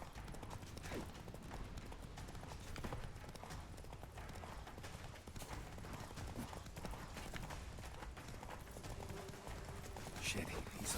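Roach the horse gallops in The Witcher 3 game, a rapid rhythmic clip-clop of hooves running steadily under game sounds and voices, moderately quiet throughout.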